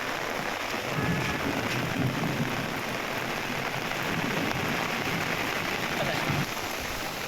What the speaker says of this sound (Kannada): ಸೇತುವೆ ಭರ್ತಿಯಾಗಿ ನೀರು ಹರಿತಾ ಇರೋದನ್ನ